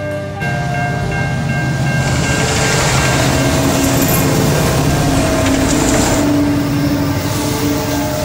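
A York Durham Heritage Railway train rolls past close by in autumn, a loud sustained rumble of wheels on rails with steady rhythmic clatter and a faint hum throughout.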